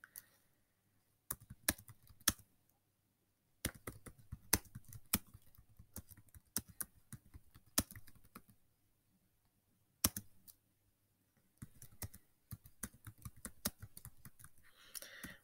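Quick bursts of computer keyboard typing with pauses in between, the key clicks crisp and close in an otherwise quiet room.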